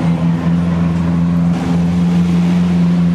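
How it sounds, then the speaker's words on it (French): A Ferrari 812 Superfast with a Capristo exhaust holds a loud, steady, deep engine drone throughout, with no break in the sound. "Mais celle-là a un échappement Capristo, donc elle fait un peu plus de bruit"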